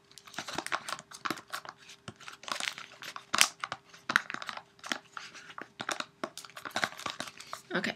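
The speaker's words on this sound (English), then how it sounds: "Try not to squeeze your bottle in too much because you don't want it to bend." A crinkly plastic bottle being squeezed for a cosplay prop gives off a string of sharp crackling crunches in irregular bursts, close and fairly loud.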